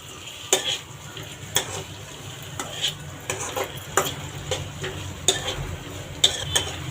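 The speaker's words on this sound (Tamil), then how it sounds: "வெங்காயத்தை நல்லா வதக்கணும்." Onions sizzle softly in a pan while a utensil scrapes and taps against the metal in irregular strokes, stirring close by.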